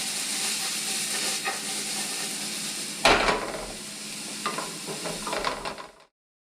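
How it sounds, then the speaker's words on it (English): Vegetables for Filipino lumpia sauté in a hot pan with a continuous close sizzle, a sudden louder burst of hissing and stirring midway, then intermittent scraping before it cuts off. "And we're just gonna saute these bad boys"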